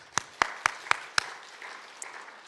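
Church congregation at a new sanctuary gives a few sharp, evenly spaced claps, five distinct loud hits, then fading into faint scattered sounds and a quiet room.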